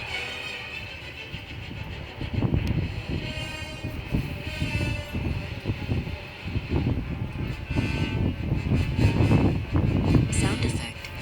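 A cartoon space rocket dodges drifting debris with a loud, sustained high-pitched whir over a rumbling, pulsing roar.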